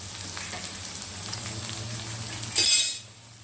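Chopped potatoes and onions fry together in a pan with a steady low sizzle, then a sharp, loud burst of hissing flares briefly before settling back.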